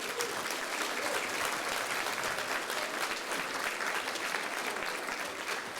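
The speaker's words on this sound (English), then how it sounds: "Big round of applause, everybody." Sustained applause from an audience at a Fraser Valley cultural diversity awards ceremony, a dense, even wash of many hands clapping at steady volume throughout, close and full, with no voices standing out.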